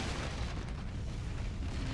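Continuous explosions in the video game Forts RTS with the Birdies mod, a dense, loud, unbroken roar of overlapping booms and blasts with no pauses.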